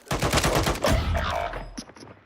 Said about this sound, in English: They hear the gunshots.